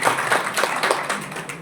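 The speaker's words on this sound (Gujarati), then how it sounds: "આપણે સૌ એક વખત જોરદાર તાળીઓ" A seated audience at a Koli Thakor community meeting in Chotila claps together, a burst of close, dense applause with quick irregular claps that fades slightly toward the end.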